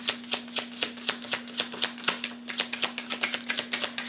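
Astrology cards are shuffled by hand in a quick, even riffle of soft papery flicks, close and clear over a faint steady electrical hum.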